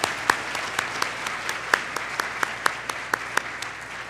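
Sparse audience applause at an awards evening honoring a group of women, with distinct individual claps ringing out in an irregular rhythm over a quiet hall.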